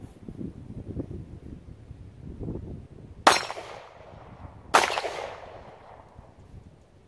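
Two sharp gunshots from a Kel-Tec P11 pistol, about a second and a half apart, crack loudly over faint background rustling, with a gap before each shot as the gun malfunctions.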